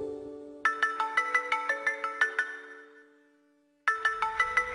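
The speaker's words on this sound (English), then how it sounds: "whenever you hear that ringtone" A phone ringtone plays a bright repeating melody of short chiming notes, loud and alone, fading into silence before starting again.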